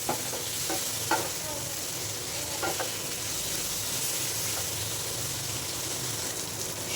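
Turmeric being sautéed in fish oil with aubergine, a steady close sizzle and fry with occasional spatula scrapes and stirring knocks.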